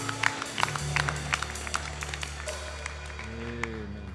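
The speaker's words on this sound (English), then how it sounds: "Let's give him another clap offering." Congregation clapping at a church service: a scattered run of sharp hand claps, moderately distant, with a sustained organ-like tone underneath and no speech over it.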